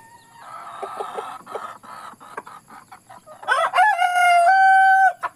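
A rooster crows loudly and close by among clucking hens in a backyard flock, with soft clucks and calls first, then a full, drawn-out crow near the end.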